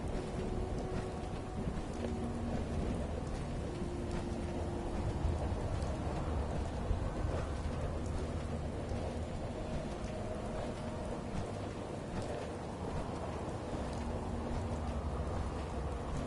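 Steady, dense rain hisses over a low continuous rumble of distant thunder and wind in Fallout on PS5, even and unbroken throughout with no voices.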